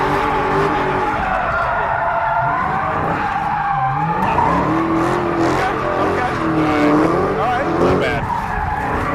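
Supercharged Dodge Hellcat doing donuts, tires skidding in a sustained loud squeal with the engine droning and wavering in pitch throughout, close and continuous.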